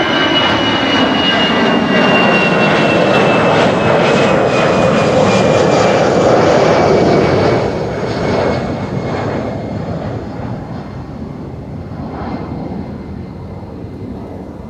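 An EasyJet Airbus A319 jet roars loudly at Schiphol Airport, a broad, sustained engine rumble with a whining tone that slowly fades as the aircraft moves away.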